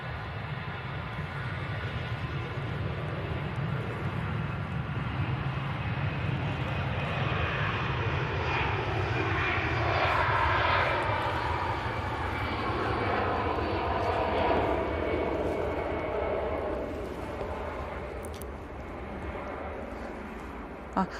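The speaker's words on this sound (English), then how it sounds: "EasyJet pushed in." An EasyJet airliner at Manchester Airport gives a steady, moderately distant jet engine rumble that swells mid-way and then eases, with faint voices underneath.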